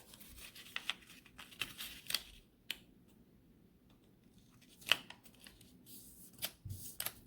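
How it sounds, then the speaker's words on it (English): Post-it note paper being folded lengthwise in half, soft crisp crinkles and taps scattered through a quiet room, close and faint. "So you'll just fold it long ways in half."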